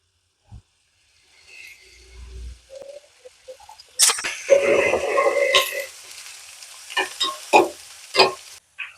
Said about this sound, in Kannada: ಸೊ ಎಣ್ಣೆ ಸ್ವಲ್ಪ ಕಾದಿದ ತಕ್ಷಣ ಆನಿಯನ್ಸ್ನ ಆ್ಯಡ್ ಮಾಡ್ಕೊಳ್ಳೋಣ.